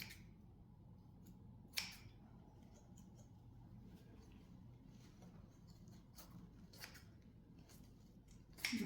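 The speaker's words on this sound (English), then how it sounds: "these scissors just do not want to cut through anything" Scissors snip at craft material while building a winter scene display, the dull blades giving a couple of faint, isolated cuts spread over a quiet, low background hum.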